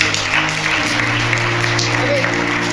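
Clapping rises from a church congregation in India for one of its members, a continuous patter of many hands blended with sustained, steady musical tones that shift pitch once, filling the room at an even level.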